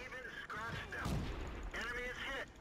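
A Pz. B2 tank's main gun fires a single heavy blast in World of Tanks, brief and moderately quiet, while someone talks before and after the shot.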